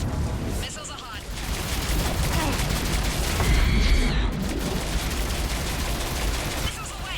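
Missiles fire during combat in Mass Effect 3, a loud, dense barrage of booming blasts and rattling gunfire rolling on continuously, with a voice speaking over the battle.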